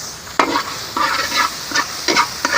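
Ginger stirred into a pan of melted butter at home cooking for a fiesta buffet, giving a few short scraping stirs over a soft, steady sizzle, close by with no talking.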